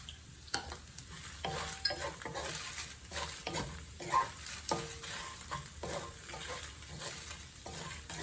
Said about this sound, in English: We also do not want the dry chili to burn, so keep stirring.